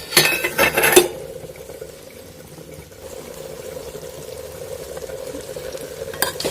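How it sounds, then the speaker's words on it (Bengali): Spatula stirring a small-fish chochchori in a pan makes a brief burst of scraping and clinking at the start, then fades to a quiet, steady simmering sizzle with a faint clink near the end. "এবার একটু নেড়ে দেব"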